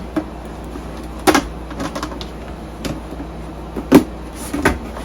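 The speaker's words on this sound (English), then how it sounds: "And all you have to do is pop it back on." The plastic door of a drop-front shoe box pops back into place with a few sharp clicks and taps spread over several seconds. The two strongest snaps are close and fairly loud, with no speech.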